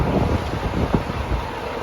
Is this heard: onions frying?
no